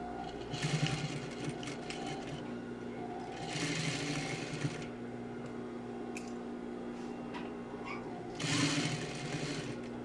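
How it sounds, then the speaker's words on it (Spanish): A domestic sewing machine stitches fabric for a sports-trouser bag, starting with a backstitch, running in a few separate bursts with a steady hum between them, close and moderately loud. "Introducimos la tela debajo del pie prensatelas y primero vamos a bajar la aguja para saber en dónde vamos a empezar a coser"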